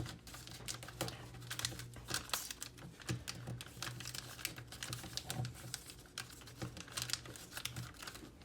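Origami paper being refolded into a base, with close, continuous crinkling and crisp rustling rising and falling throughout, no speech over it.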